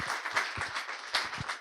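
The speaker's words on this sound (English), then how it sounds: "Maybe a round of applause for the amazing guys." A small audience claps for the speakers at the close of a panel discussion, with a scattering of separate, uneven claps from a few people that carry on steadily for a moment, nearby and moderately loud.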